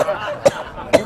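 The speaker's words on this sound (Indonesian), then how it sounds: "Ya udah coba batuk lagi." Two short, sharp coughs, close and fairly loud, spaced about half a second apart, with quiet indoor background between them.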